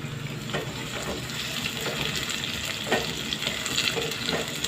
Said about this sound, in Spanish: vamos a dejar que se guise, que se frite la cebolla y el ajo